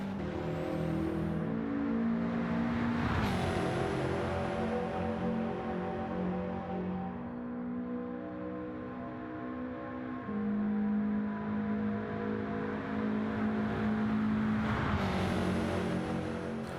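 Subaru WRX Gr.4 race car engine from Gran Turismo 7, droning loud and steady with harmonic revving, shifting pitch through gear changes, rising and falling with no voices over it.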